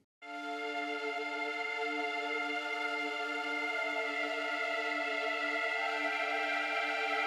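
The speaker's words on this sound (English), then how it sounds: "I wanted to make really big pads go like far and wide with other synths" Wide, sustained synth pads in a witch house production, a dense stack of held tones swelling in quickly and then ringing steadily and loud with no voices present.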